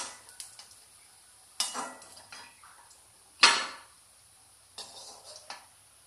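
Fried malai kofta balls lifted out of a pan of hot oil, giving a few sharp metal scrapes and clinks of a spoon against the pan amid faint sizzling, with quiet gaps between.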